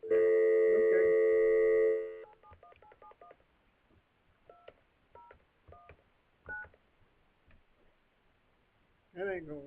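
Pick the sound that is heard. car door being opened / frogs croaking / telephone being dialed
telephone being dialed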